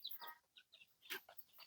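Backyard chickens kept as gamecocks give a handful of short, close clucks and soft calls in an uneven rhythm, with brief quiet gaps between bursts and no talking.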